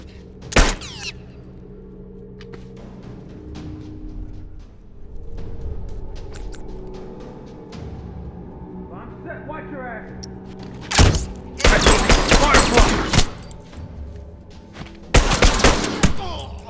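Enemy rifle gunfire in The Last of Us Remastered comes in loud, close bursts: a single crack early, then rapid volleys later, over quieter game ambience.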